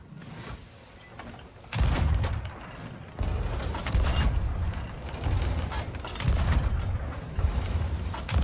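Cannons fire from a sloop battling Flameheart in the Sea of Thieves video game. Several heavy, low booms land a second or two apart amid creaking, rattling ship mechanisms.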